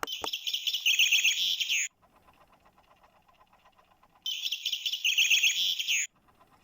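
Chaffinch song from a British bird clock, played as two bright, rapid chirping bursts of about two seconds each, separated by a quiet pause, close and clear with no talk.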